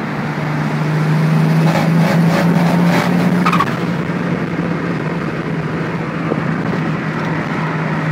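A turbocharged RB30DET car engine runs under boost at about 18 psi, a loud continuous roar with a steady drone that shifts slightly in pitch, close and unbroken throughout.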